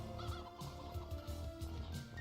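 In the 3D Metroidvania game Poppet Quest, enemies fire chickens, giving a series of clucking, honking fowl calls that repeat roughly every half second over a steady tonal game background.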